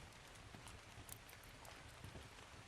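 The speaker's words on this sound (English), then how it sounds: "Hey, it's raining." Steady rain falls at a boat build site, a dense, even hiss of drops on surfaces with scattered louder patters, faint and continuous throughout.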